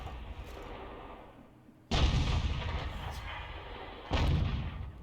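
Two deep booming shots from a Hummel self-propelled artillery gun in a tank video game, each a sudden loud blast with a long rumbling tail, about two seconds apart.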